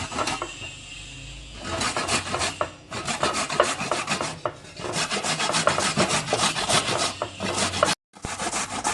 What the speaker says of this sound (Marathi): याच पद्धतीने गाजरचा मागचा पुढचा भाग कट करून आपण हे गाजर किसणार आहोत